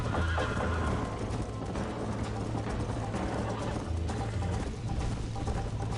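Horse in the Red Dead Redemption video game whinnying and neighing loudly alongside steady galloping hoofbeats that run throughout, dense and continuous with no clear speech.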